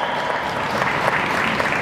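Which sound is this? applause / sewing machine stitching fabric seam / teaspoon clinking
applause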